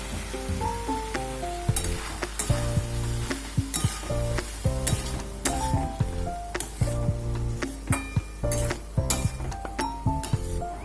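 Boiled banana flower is stirred into a sizzling fried spice paste in a pan, with a soft sizzle broken by repeated clinks and scrapes of the spoon against the pan over background music.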